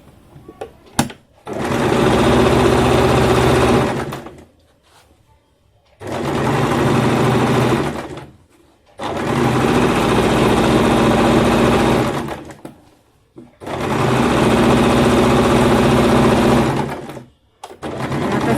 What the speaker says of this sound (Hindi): इस तरह से इसके आसन की सिलाई कर लेंगे।